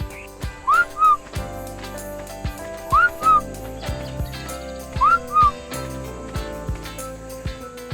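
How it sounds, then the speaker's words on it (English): A character in the video game ARK: Survival Evolved whistles in short rising two-note phrases, repeated three times at even intervals over a steady game backdrop of low thumps and ambient tones. "I'm just sort of circling the base whistling and I cannot hear nor see him."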